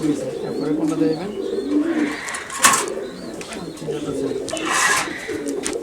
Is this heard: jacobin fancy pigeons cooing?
yes